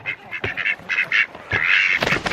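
Chickens of rare breeds calling close by in a backyard, a rapid run of loud nasal squawks ending in a longer harsh cry, with no talk.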